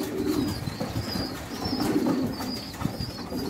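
A Kashmiri pigeon coos close by in soft, rolling, repeated calls, with faint chirps and a light rustle of feathers, and no voices.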